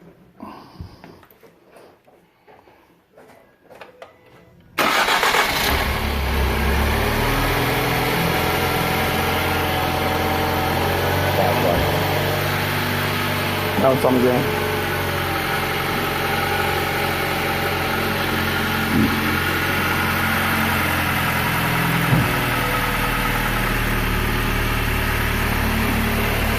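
A 2011 Ford Fusion engine starts and settles into a steady, loud idle that runs on for over twenty seconds, with a brief voice heard before it turns over.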